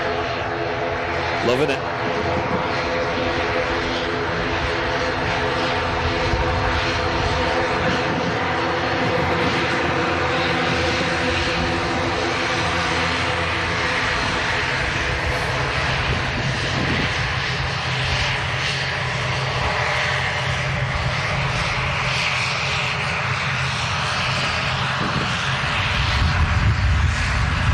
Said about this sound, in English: Beautiful props of the ATR.